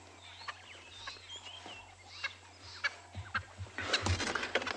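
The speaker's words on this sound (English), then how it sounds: "I think this Swainson's spurfowl might be telling us something" A Swainson's spurfowl calls on a safari game reserve, its harsh clucking, gobbling notes rising over steady low background hum, growing louder and denser toward the end.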